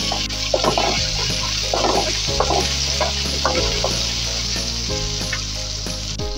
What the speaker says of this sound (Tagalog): Dito po sa pinaggisahan natin, niluluto natin muna yung patatas.